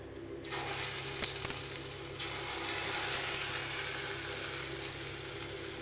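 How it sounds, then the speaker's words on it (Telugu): Small spoonfuls of urad dal pakodi batter dropped into hot oil, a continuous close sizzle and bubbling with a few sharper splashes as pieces go in, no talking. "తర్వాత ఇప్పుడు మనం పకోడీ చేసుకుందాం. ఇలా చిన్న చిన్నగా వేసుకోవాలి."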